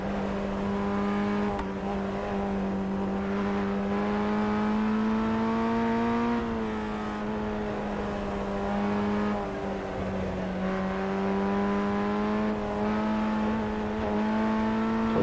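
A Formula Ford 1600 engine in the iRacing sim drones on a cooldown lap at Lime Rock Park, with a steady buzzing tone that rises and dips through gentle throttle changes for the whole stretch.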